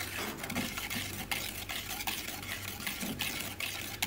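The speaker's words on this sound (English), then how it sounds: "After putting the lemon on the baking soda, I'll try and whisk it to mix all the contents together" Lemon juice and baking soda are whisked into a paste in a bowl, giving a soft, continuous scraping and stirring with faint, regular clicks of the whisk.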